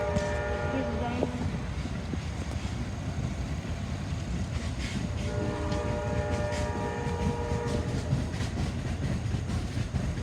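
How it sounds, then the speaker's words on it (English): Amtrak Empire Builder passenger train rolling past a station at Edgebrook, a continuous loud rumble with clattering wheels and metallic squeals throughout. "And there you go, Amtrak Empire Building."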